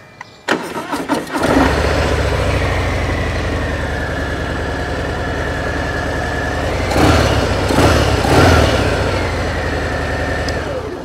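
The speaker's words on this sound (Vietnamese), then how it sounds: "Rồi nổ máy các anh nghe." A 2022 Harley-Davidson Fat Bob 114 motorcycle, 1868cc engine, cranks and catches, then settles into a steady, loud idle with a couple of brief throttle blips near the end.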